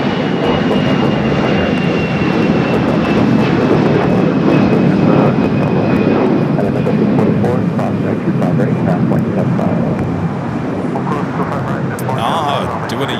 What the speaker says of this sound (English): That American Dreamliner heading to Tokyo Haneda,